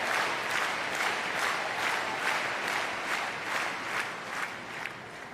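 A wheelchair tennis crowd applauds after a game point, sustained dense clapping from the stands, fairly loud and continuous, slowly tapering.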